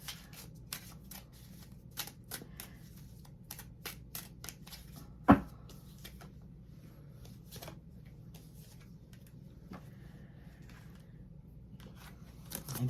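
Tarot cards being shuffled by hand, a steady run of soft riffling and slapping bursts for several seconds, with one sharper knock midway and no talking.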